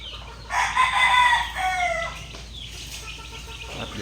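Chickens and chicks make brief clucking and crowing calls, a couple of loud close bursts followed by softer chirps and rustling over a low outdoor background.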